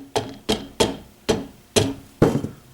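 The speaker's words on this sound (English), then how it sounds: "So I use a sledgehammer and I give it a little tap on my wrench." A sledgehammer tapping a wrench while loosening a tight part on an AR rifle build, six sharp metallic knocks at a steady, unhurried pace, close and loud with short ringing decay.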